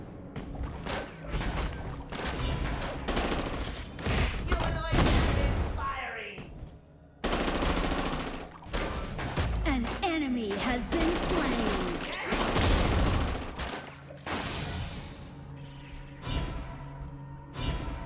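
Dense in-game gunfire and cannon blasts with crashes and whooshes from a ranked Honor of Kings match, loud and continuous throughout, with brief game voice announcements mixed in.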